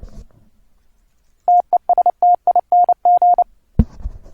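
Morse code sidetone from a TWCW keyer on Linux, a clean steady beep keyed into short dits and longer dahs for about two seconds, with a thump and brief noise just after.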